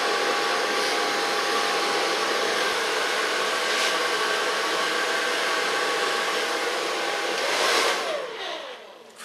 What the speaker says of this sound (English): So far blow drying, and now I'm going to style it.